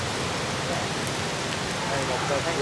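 Heavy rain falls in a constant, close, broadband patter, with voices talking faintly underneath the downpour.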